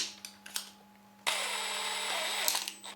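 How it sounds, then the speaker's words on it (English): A cordless drill bores into antler tips on a workbench, starting after a few soft handling clicks and then whining steadily and close for about a second and a half. "I'll use my cordless drill"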